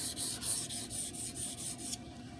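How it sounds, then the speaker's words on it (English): A knife's flat side rubbed back and forth across a sharpening stone, about eight even rasping strokes in a steady rhythm, close and clear, then stopping near the end. "of just rubbing the flats on the stone"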